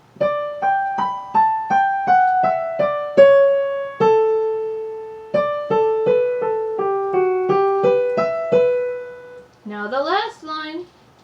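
A keyboard plays a detached melodic line of single notes from Bach's 'Marche' in steady rhythm, ending with a brief quick flourish.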